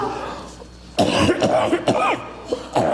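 After a brief quiet moment, a person coughs several times in quick succession, close up and fairly loud.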